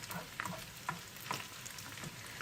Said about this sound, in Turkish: Kıymamızı güzelce pişiriyoruz.